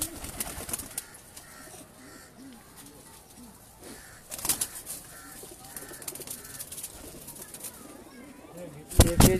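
Migratory pigeons in a loft cooing in soft repeated rolls under steady chatter and someone talking, with a few louder bumps and flutters near the end.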